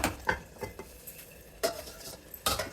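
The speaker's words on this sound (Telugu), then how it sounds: "ఇలా వంకాయలు చిన్న ముక్కలు కట్ చేసుకుని కొంచెం ఆయిల్, ఉప్పు వేసుకుని ఇలా వేయించుకోవాలండి" Small eggplant pieces fry in oil with salt in a pan, under a soft sizzle with intermittent scraping stirs of a utensil against the pan, close and moderately quiet.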